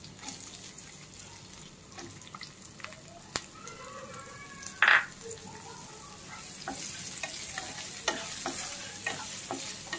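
Boiled sweet corn is stirred in a pan as it fries for frankie filling, with a soft continuous sizzle under scraping spoon strokes and one sharp clatter midway.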